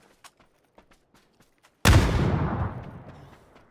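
A grenade goes off in PUBG with one sudden, loud, close blast after a few faint ticks and clicks, and the boom rumbles and fades over about two seconds.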